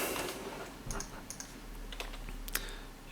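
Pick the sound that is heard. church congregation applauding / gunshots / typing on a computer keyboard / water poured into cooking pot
typing on a computer keyboard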